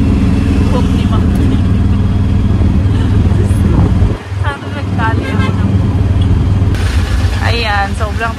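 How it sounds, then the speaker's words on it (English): Heavy road traffic in India, with cars and motorcycles passing in a constant close engine drone, a brief lull, then horn toots and engine whines near the end, with people talking nearby. "Ayan, sobrang traffic."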